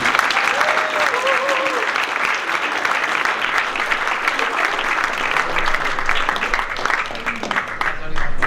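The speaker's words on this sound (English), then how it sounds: "Can we have a round of applause for Father Brendan and Matthew?" Sustained applause from a crowd at a branch event in the Matthew Flinders Hotel, a thick, even patter of many hands that carries on for several seconds.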